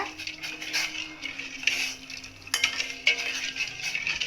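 A spoon stirs 200 grams of sugar into water in a pot for agar agar soya cincau, making repeated scraping, swishing strokes with a few sharper knocks against the metal, close and fairly loud.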